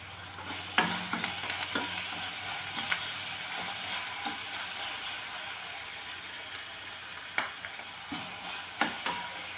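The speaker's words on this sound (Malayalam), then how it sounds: "നമ്മൾ ആദിയിൽ ലോ ഫ്ലെയിമിലിട്ടാണ് വേവിക്കുന്നത്." Food cooks without water in a pan over a low flame, giving a steady, soft sizzle broken by occasional scrapes and clicks of stirring.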